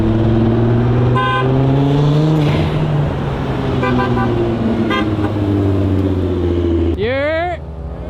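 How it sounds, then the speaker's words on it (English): Several cars pull up together on a road alongside a Lamborghini Huracan and a modified Honda NSX, engines droning steadily while a short car-horn toot sounds early and a rising whine or honk cuts in near the end, with people talking throughout. "apparently there's a bunch of cars coming up right now"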